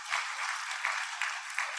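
Brief, steady clapping from an audience applauding the speaker Dr. Karina at a program grand opening, moderately faint, with a few sharper claps standing out.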